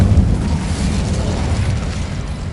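An incendiary spell bursts in Hogwarts Legacy, a loud sustained fiery roar with deep rumbling that stays dense and steady throughout.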